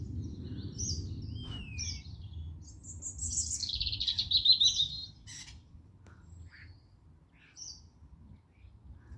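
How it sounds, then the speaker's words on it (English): Birds in the morning countryside give scattered chirps, then a louder burst of squawking, twittering calls midway, fading to sparse single chirps over a low background rumble. "There's more birds."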